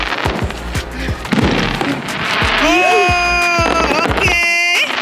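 Fireworks go off in a rapid crackling barrage of sharp bangs and whistling rises, loud and close, with voices talking over the bursts.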